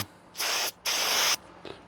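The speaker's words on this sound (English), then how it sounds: "I can't find prep spray, so I'm just use brake clean" Brake cleaner sprays from an aerosol can while prepping work on an old OBS Ford truck: two loud, close hissing bursts, the second longer, then a faint short puff.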